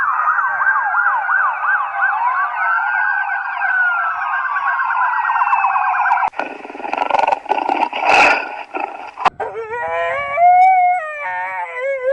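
A loud wailing ambulance siren, played from a loudspeaker on Puducherry farmland to scare off wild pigs, sweeps up and down on its own for several seconds, then gives way to clattering noise and a different warbling electronic tone.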